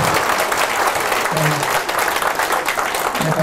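An audience at a women's retreat health lecture gives a round of applause, a steady dense clatter of clapping that lasts the whole stretch, with a few voices faintly underneath.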